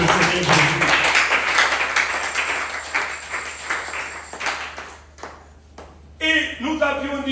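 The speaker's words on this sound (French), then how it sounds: "Applaudissez un peu pour le Seigneur Jésus" A church congregation claps at a Thursday worship service: dense applause for several seconds that fades out, then a brief pause before a voice and tonal sounds return near the end.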